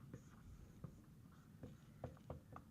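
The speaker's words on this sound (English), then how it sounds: "Let me write it up here" Marker or chalk strokes on a classroom board during a chemistry lecture, a scatter of short faint scratches and taps at irregular intervals, quiet and close.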